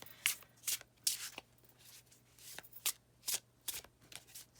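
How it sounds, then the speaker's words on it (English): A deck of cards being riffle-shuffled repeatedly, crisp rapid fluttering bursts with short pauses between them, close and fairly quiet. "the cards shuffle nicely"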